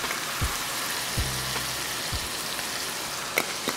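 Ground beef browning in a pan, a soft steady sizzle with scattered small pops and crackles, fairly faint and continuous with no voices.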